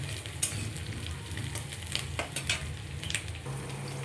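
Onion and potato fry lightly in a pan for ghugni, giving a continuous soft sizzle broken by several sharp metallic clinks and scrapes from stirring.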